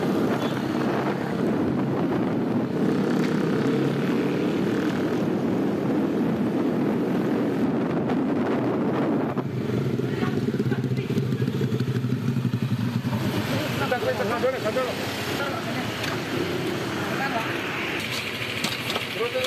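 Motorcycles with loud brong exhausts roar during a nighttime police chase on a city street in Madiun, a continuous rumbling, revving drone with wind buffeting the microphone, while a reporter talks over it.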